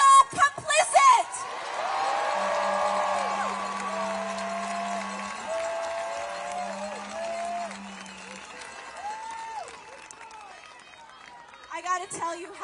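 A large outdoor protest crowd calling for a president's resignation roars and cheers, loud at first, then eases into a long sustained wash of distant voices before a fresh burst of whoops near the end. Someone speaks over the cheering.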